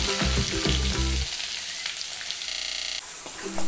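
Onion tossed into hot oil with frying garlic, dried red chillies and curry leaves produces a loud, continuous sizzle with clattering stirs at the start, no voices over it.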